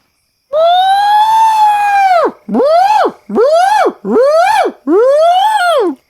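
A voice imitates an elk bugle with a long rising, whistling wail and then four shorter swooping calls, loud and close.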